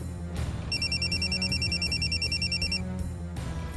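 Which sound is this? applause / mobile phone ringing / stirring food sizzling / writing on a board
mobile phone ringing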